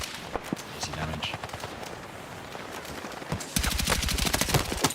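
Automatic gunfire in the video game Battlefield 6: scattered, muffled shots and ambient battle noise, then a loud, rapid, steady burst of close fire near the end.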